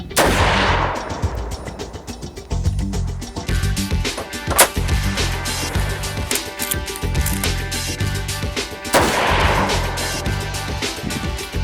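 A Lee Enfield Ishapore rifle in .308 fired with open sights at a 100-yard outdoor range, heard as loud, close sharp reports that ring out into a long, rumbling decay.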